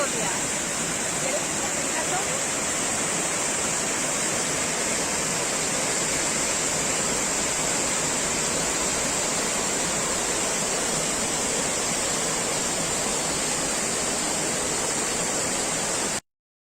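The Velo de Novia waterfall in Mexico roars as a steady, dense rush of falling water, loud and unbroken for the whole stretch before cutting off abruptly at the end.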